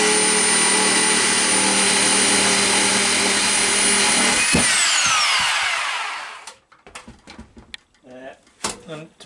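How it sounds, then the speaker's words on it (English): A power saw fitted with a Bosch blade cuts along a timber edge during a loft staircase build, loud and continuous for several seconds before spinning down, followed by a few quieter knocks and handling sounds. "I'm going to use this for the cutting the main edge, and I'll see how square it is."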